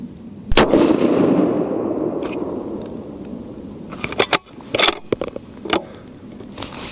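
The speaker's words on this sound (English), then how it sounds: "we are going to shoot at the left side of the center diamond" A Remington 700 .30-06 rifle fires a single loud, close shot using Sierra 165 grain tipped Game King ammunition, followed by a long rolling echo across an outdoor range and a few sharp clicks and handling noises.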